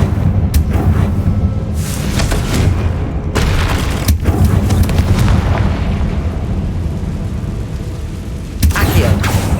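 Booming blasts of the Confringo fire spell in the Hogwarts Legacy game, heavy rumbling explosions with sharp bursts layered over a loud, continuous roar.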